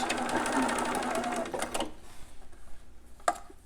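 A home sewing machine runs a short burst of back stitching along a fabric ruffle on a newborn romper, a rapid mechanical whir that stops after about two seconds, followed by a few light handling clicks.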